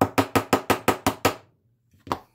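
Seven quick sharp taps of a plastic-faced hammer driving a steel pin into a Beretta 92X pistol frame during a hammer install, evenly spaced, then a pause and one last tap.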